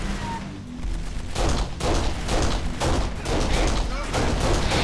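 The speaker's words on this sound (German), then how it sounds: "Wir werden von hinten beschossen" Heavy gunfire in Kane & Lynch: Dead Men, repeated loud bursts of shots and blasts rolling in waves, with voices mixed under the shooting.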